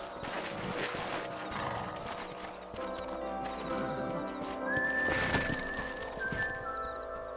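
Steady clip-clop of horse hooves trotting along in Red Dead Redemption, with a whinny and ambient game sounds layered over a continuous background.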